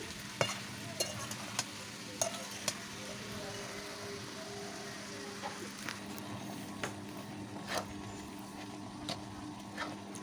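Jackfruit and potato stirred and sautéed in a pan on a village stove, with a soft steady sizzle under faint scraping strokes and occasional sharp taps of the spoon.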